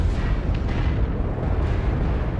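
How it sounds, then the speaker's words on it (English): Artillery strike explosions in a multiplayer shooter, a loud continuous rumbling roar of blasts that stays dense and heavy throughout, with no voices. "Artillery strike online"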